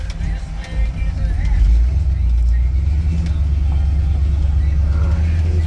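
A 1974 Ford Ranger XLT truck drives along with a deep, steady engine rumble heard from inside, rising slightly early on, with a voice speaking faintly over it.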